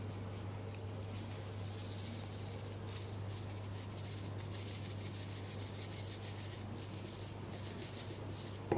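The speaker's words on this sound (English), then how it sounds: "Rub them a little bit." Soft, steady rubbing and brushing as salt and pepper seasoning is worked by hand onto seabass, a close, quiet scraping texture over a constant low hum.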